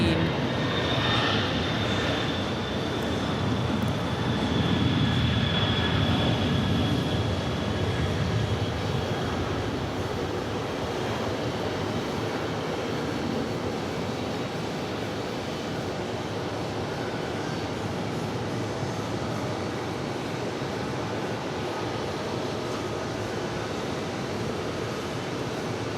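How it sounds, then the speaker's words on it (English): Engines of a Qatar Airways Boeing 747 freighter bound for Anchorage roar at New York JFK, a heavy sustained rumble with a high whine early on, swelling then easing slightly while staying strong throughout. "Qatar Air Flight 910 heading off to Anchorage. 747 for freighter."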